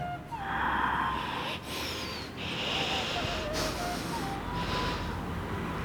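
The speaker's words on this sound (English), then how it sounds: "I took multiple breaths" Steady, noisy yoga breathing during an arm movement, with several drawn-out inhales and exhales running back to back, close and moderately loud.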